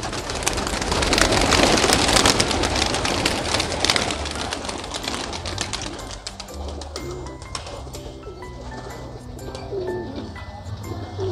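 Pigeons coo and call with hungry chicks in a home loft, dense overlapping bird calls loud at first, then settling into softer cooing with pattering noise.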